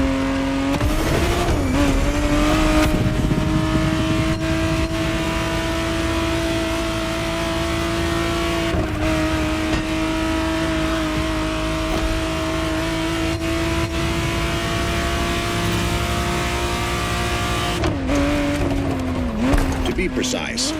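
A 1991 Ferrari 512 TR Testarossa flat-twelve in The Crew Motorfest holds a steady, droning cruise with brief revs and gear changes, while a voice narrates over the engine the whole way through.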